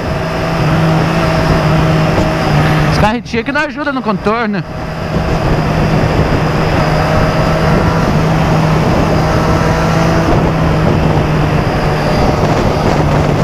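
A remapped Kawasaki ER6N motorcycle roars loudly and continuously while riding through traffic, with wind rush throughout and a rider speaking briefly over it.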